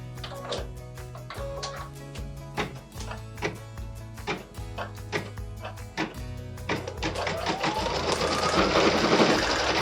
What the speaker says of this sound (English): Machine step 15 is stitching the middle pot, the pumpkin stem and details, and some carrots.